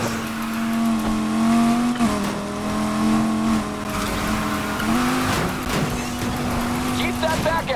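A 2017 Audi S5 Sportback drifting in Need for Speed Heat, its engine holding a loud, sustained revving tone with shifting pitch and tire squeal, while a voice talks over it.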